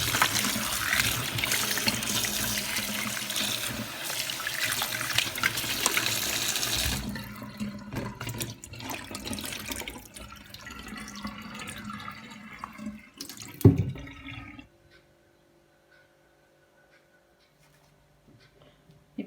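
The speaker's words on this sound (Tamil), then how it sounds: "நான் வந்துட்டு பழங்கள் எல்லாம் வாஷ் பண்ணிட்டேன்." Fruits are washed under running tap water, giving a loud, steady splashing gush. It thins to trickles, then a clatter, then near silence.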